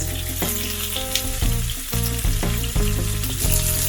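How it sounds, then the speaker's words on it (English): Sliced onions fry in a pan with nigella seeds and red and green chilies for a mustard tilapia fish curry, giving a steady close sizzle with tonal background music running throughout. "We'll fry the onions till they are slightly brownish in color."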